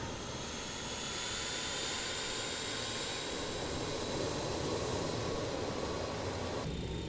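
Steady jet engine roar of a BAe 146 airliner in a flight simulator game, a continuous broadband rumble with high whining tones, unchanging and fairly loud throughout with no talking.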